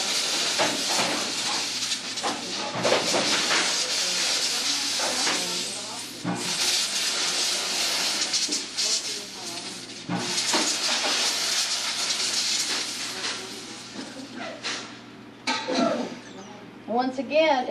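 Loud, continuous hiss of a steam cleaner with bursts and sputters, under steady talking throughout.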